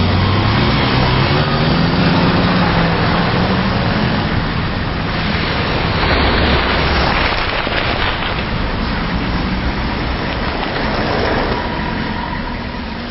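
Road traffic with cars passing, where crows drop nuts to crack them, gives a loud, continuous roar of engines and tyres that swells and fades as vehicles go by, with no voices.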